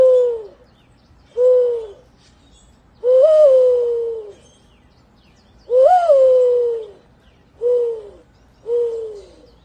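A man imitates a mourning dove, voicing six close, loud, hollow cooing hoots with short pauses between them. Each coo has a slight rising swell.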